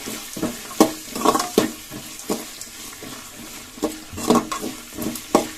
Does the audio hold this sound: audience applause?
no